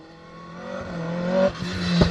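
Rear-wheel drive, big-power Darrian rally car on a Manx National Rally special stage, its engine revving hard and rising in pitch as it accelerates, loud and close with no voices.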